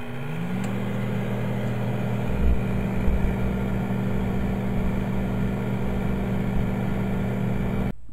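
A microwave oven hums steadily at close range, a constant low drone with a faint rattle, starting with a brief rising tone and stopping at the end.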